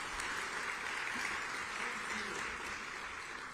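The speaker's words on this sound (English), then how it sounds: "So how about a nice round of applause for BronxNet Television." Audience applause at an event honoring a congressman in the Bronx, an even wash of clapping that holds steady throughout, fairly distant and moderately loud.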